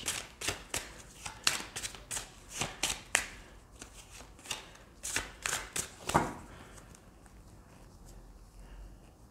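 Oracle cards being shuffled by hand before a card reading: a quick series of crisp, riffling bursts close by for several seconds, then a fade into quiet room tone.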